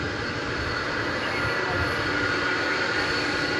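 An Atlas Air jet departing Dallas Fort Worth (DFW) Airport at night, bound for Seoul, heard as a loud, steady engine roar throughout, with speech mixed in under the noise.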